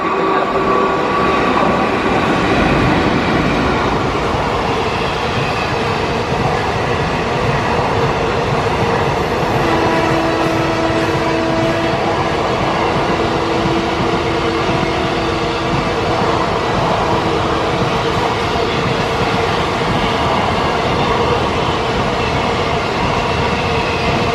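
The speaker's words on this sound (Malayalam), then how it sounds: "സെക്കൻഡറാബാദ് ട്രിവാൻഡ്രം ശബരി എക്സ്പ്രസ്" The Secunderabad–Trivandrum Sabari Express of Indian Railways passes close by, a loud, continuous roar of rolling wagons with rhythmic clatter and faint wheel squeals, lasting the whole stretch without talk.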